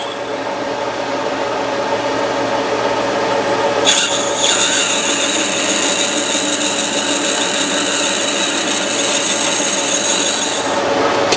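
An 8.5mm tapping drill bores into a bronze-like workpiece on a lathe, a steady high whine with tonal squeal entering abruptly and holding loud and close over constant machine hum.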